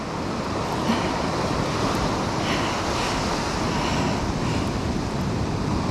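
Surf rolls in steadily on a South Australian beach, a broad continuous roar of breaking waves heard alone, with wind rushing over the microphone.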